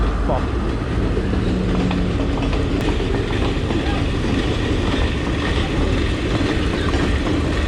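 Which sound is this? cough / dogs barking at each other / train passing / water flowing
train passing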